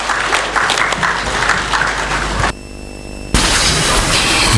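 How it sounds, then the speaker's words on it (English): Audience applause at a press conference with Ghana's President Mahama, dense clapping filling the room, briefly dipping midway behind a steady hum before swelling back loud and continuous. "Shall we give him a round of applause, please?"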